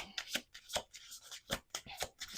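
A deck of tarot cards is shuffled close up with quick, rhythmic riffling bursts and soft slaps, faint and intimate, with no talking.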